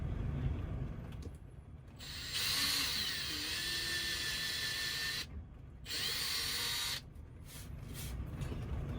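A power drill whirs steadily as it bores through a wooden table inside a Toyota Coaster campervan, with brief pauses where the motor stops and restarts, close and loud.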